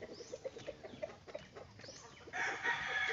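Chickens on a pasture farm give soft, repeated clucks in a quick irregular rhythm, fairly faint and close, ending in a brighter, louder squawk.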